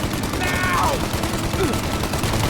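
A dense gunfire exchange from the Mafia video game crackles continuously and loudly, with voices shouting over the shooting.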